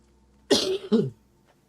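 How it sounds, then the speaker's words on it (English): A person coughs twice in quick succession, close and fairly loud, with a short pause between the two bursts and quiet before and after. "Sorry, I keep coughing."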